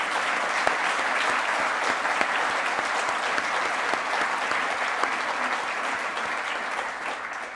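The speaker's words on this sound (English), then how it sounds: "Give yourselves a round of well-deserved applause" A large auditorium audience at a master's graduation ceremony in international affairs applauds, broad continuous clapping from many people at a steady loud level, tapering slightly toward the end.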